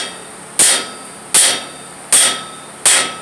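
Four sharp, loud metallic hammer blows strike a Jaguar chassis during disassembly, evenly spaced about three quarters of a second apart, each ringing briefly before decaying, with no talking.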